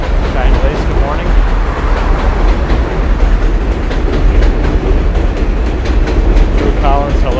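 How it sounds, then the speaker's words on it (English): An NYC M subway train rolls across the Williamsburg Bridge, a steady loud rumble with faint rail squeals, carrying on for several seconds under a nearby voice talking. "M-Train coming along."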